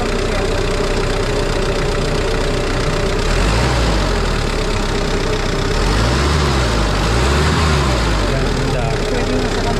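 A car's engine idles loudly at the exhaust pipe in a continuous throaty drone that swells a few times with slight throttle, and voices talk briefly over it.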